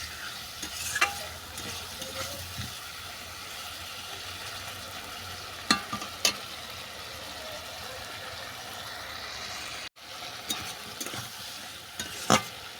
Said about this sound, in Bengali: সবজিটা ভালো করে কষানো হয়ে গেছে